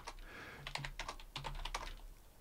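A short command is typed on a computer keyboard in a Linux shell during a hacking session: a quick run of crisp, close key clicks in two brief bursts, quiet and without talk.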